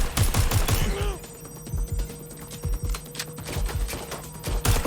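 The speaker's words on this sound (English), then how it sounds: "we got shots fired. Seeking cover. Providing suppressive fire" Rapid bursts of gunfire in the Watch Dogs Legion video game crackle through the first second, then come back as scattered, punchy shots under a low droning score.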